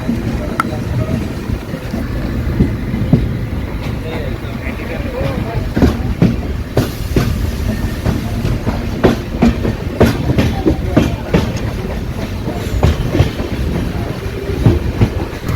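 Ratnagiri–Diva passenger train running on rails, a steady loud rumble with repeated clickety-clack wheel beats throughout, heard from inside a carriage with faint chatter in the background.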